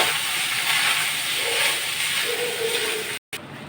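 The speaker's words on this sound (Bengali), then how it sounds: "আগে থেকে ভাত করে রাখা সেই ভাতটাকে দিয়ে এবার ভেজে নিতে হবে।" Pre-cooked rice fries in a pan for jeera rice, giving a steady broad sizzling hiss that holds at an even level for about three seconds before cutting out briefly near the end.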